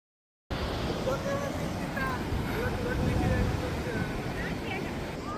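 Wind and waves on the beach at Gokarna make a steady, loud broadband roar that fills the whole stretch with continuous rushing noise, starting abruptly after a brief silence.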